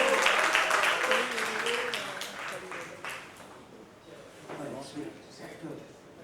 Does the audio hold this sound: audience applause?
yes